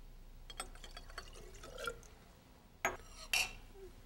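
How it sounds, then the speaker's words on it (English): Liquid reactant poured into test tubes for a concentration clock reaction, heard as faint trickles and drips followed by two sharper glassy pours near the end, with no talk. "So we begin our reaction by adding the first reactant to our tubes."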